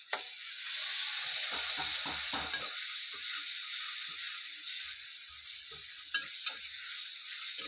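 Crushed garlic sizzles steadily in hot oil on a gas stove, with a spoon scraping and stirring through it in short bursts and a few clinks against the pan.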